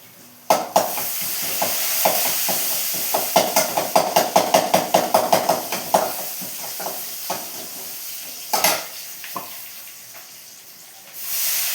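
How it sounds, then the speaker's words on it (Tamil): Garlic tempered in hot oil with mustard seeds for rasam, crackling and sizzling close by with a quick run of rhythmic stirring scrapes, then a few scattered clinks before the frying settles. "இந்த பூண்டை தாளிச்சு விட்ருவேன்"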